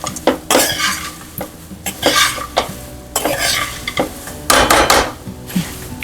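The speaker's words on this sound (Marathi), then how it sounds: "असं ढवळून घ्यायचं छान." Chivda mixture stirred in a pan, with repeated scraping strokes of a utensil against metal in uneven bursts and a soft sizzle underneath, close and fairly loud.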